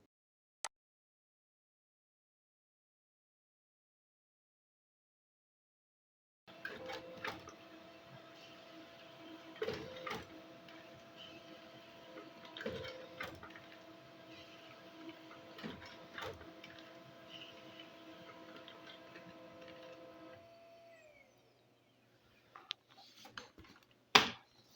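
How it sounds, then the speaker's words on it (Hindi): An office printer prints the odd pages of a Microsoft Word document, running as a steady mechanical whir with rhythmic clicks and paper feed for about fourteen seconds after a quiet start, then stopping with a few final clunks. "आप देख सकते हो ये हमारे ऑड पेजेज हैं वो प्रिंट होकर के आ चुके हैं"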